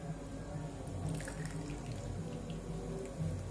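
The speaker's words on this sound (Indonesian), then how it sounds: "kemudian saya masukkan air panas" Hot water poured into a cup for a mango Yakult drink, a faint, steady trickling stream running without a break, with no talking.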